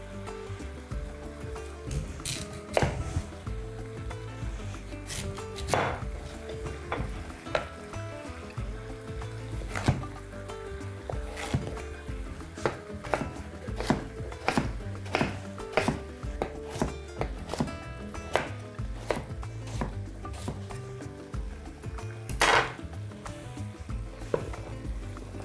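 Sweet potato being finely chopped with a knife in a home kitchen while making a lamb and quince sauce, a steady run of sharp, close knife taps against a board over faint background music, with no talk.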